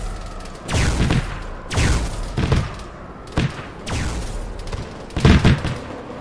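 Gunfire and explosions in an Arma 3 boarding action aboard a Covenant cruiser, several heavy bursts and booming shots spaced a second or so apart, loud and close.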